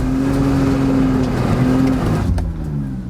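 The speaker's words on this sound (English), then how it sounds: "rev the engine, dump the clutch and left foot brake quickly" A car engine held at high revs for a burnout, a loud steady drone with a strong low tone that dips slightly near the end, close and continuous with no talk.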